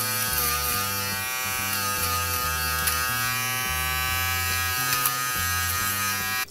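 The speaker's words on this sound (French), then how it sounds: "Maintenant, on va passer au rasoir électrique de finition de chez Wahl." Wahl electric finishing shaver running steadily against a beard, a loud continuous buzzing hum whose pitch shifts in regular steps as it passes over the stubble, close and alone.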